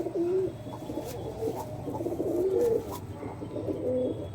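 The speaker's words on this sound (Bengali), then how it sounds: "পায়রা ধরে না দাদা, খুব ছটপট করছে" Domestic high-flyer pigeons cooing in repeated low throaty phrases, close and fairly steady, with soft rustling that may be wing fluttering, no talk.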